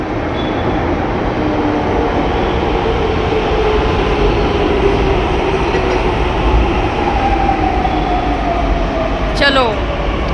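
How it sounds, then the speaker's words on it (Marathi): A Pune metro train pulls into the station with a loud, continuous rumble and hum, a falling whine of slowing motors through the middle and a squeal near the end; no speech is heard. "सो इथं आपली मेट्रो आलेली आहे"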